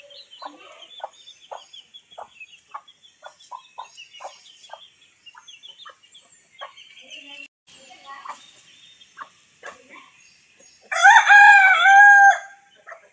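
A farm rooster crows loudly near the end in answer to nearby wild jungle fowl, after a stretch of scattered bird chirps and clucks in the background.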